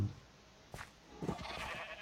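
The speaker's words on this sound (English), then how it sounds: "sheep don't like being punched" A Minecraft sheep bleats after being punched in the game, a couple of short bleats close together, fairly faint, with no talking.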